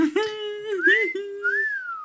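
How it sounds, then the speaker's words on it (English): A person whistles a short, wavering tune with a few held notes and a rising glide at the end, clear and close. "You hear whistling."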